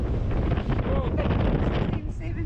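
Steady wind gusting to 16 knots buffets the microphone in a constant roar, with the wash of water and the noise of a Leopard sailing boat at sea beneath it.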